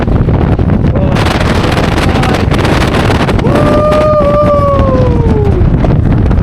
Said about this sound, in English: The wind is so strong coming up the valley there.